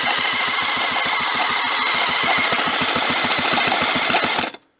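A motorbike engine on a BNK84B, clamped by an engine mount, is spun over by a DeWalt cordless drill, giving a fast, even mechanical chatter with a steady whine that runs loud and unbroken, then stops abruptly near the end.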